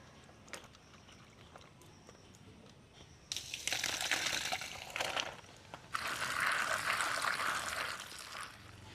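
Cut figs rinsed by hand in water, quiet at first with faint splashes, then two louder stretches of sloshing, gushing water as the fruit is swirled and washed.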